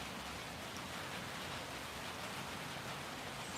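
Steady morning rain falling outside, a dense continuous hiss of drops on surfaces with no pauses or other sounds, close and even throughout.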